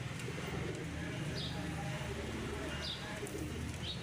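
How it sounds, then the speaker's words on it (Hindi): Teddy pigeons bred from two noted lofts coo softly and steadily in a low murmur, with faint chirps above a constant background hum. "ये कबूतर देखें आप"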